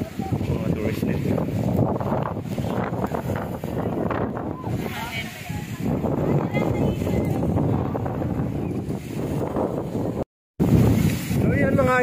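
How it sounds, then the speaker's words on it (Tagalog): Strong wind buffets the microphone on a boat at sea near Dingalan, Aurora, a continuous loud roar with water noise, while people talk over it throughout and a brief dropout occurs near the end. "Sobrang lakas ng hangin dito mga idol."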